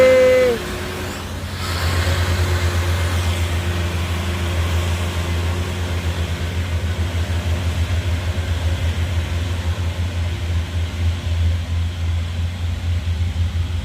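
A heavy truck grinding up a steep hill road, its engine giving a steady low, loud drone, with a brief hiss near the start.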